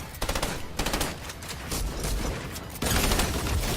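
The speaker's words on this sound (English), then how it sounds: "Oh, I need the drum gun." Rapid automatic gunfire from a drum gun in a video game, dense bursts of shots with brief gaps, loud and close, continuing steadily to the end with no talking.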